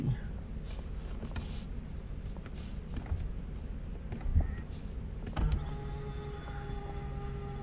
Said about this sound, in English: They are power. So it's one touch out, one touch in.